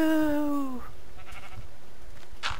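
A single sheep bleats in a farm video game: one close, clear, wavering bleat at the start that fades into quiet background game ambience.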